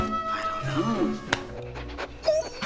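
A dog in a film scene pants and lets out a few soft whimpers, heard close up among faint overlapping voices and other film sound.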